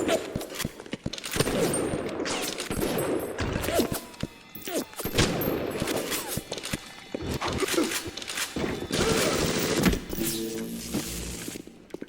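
Shotgun blasts and combat noise from the video game Bioshock, a dense run of loud bangs and crashes with clattering effects, over a busy game soundtrack.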